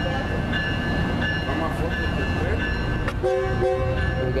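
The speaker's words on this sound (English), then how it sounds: "here goes northbound train departing, heading to Boca Raton" An Amtrak northbound passenger train pulls out of a station, a steady rumble of rolling cars with brief horn-like tones late on, heard close and fairly loud throughout.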